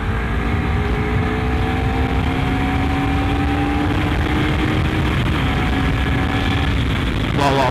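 A Honda CBR250RR motorcycle on a test ride, its engine droning steadily and climbing gradually in pitch as it gathers speed, with a brief burst of extra noise near the end.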